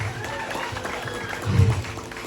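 A crowd at a Balinese temple performance featuring Rangda breaks into scattered applause, a continuous wash of hand claps with some crowd noise mixed in and a brief louder swell near the end.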